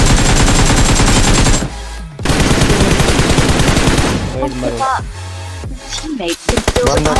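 Gunfire in the battle royale game PUBG crackles in rapid automatic bursts, loud and dense, broken by short pauses and a few separated single shots toward the end.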